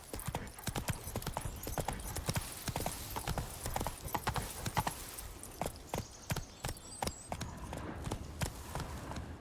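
Roach the horse gallops in The Witcher 3, a fast, even drumming of hoofbeats on the ground that carries on throughout, fairly close with a faint background hum.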